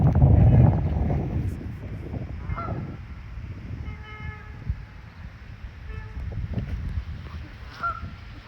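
Geese honk by the water at sunset, a loud burst of calls at first, then scattered nasal honks and short harmonic cries spaced through the rest.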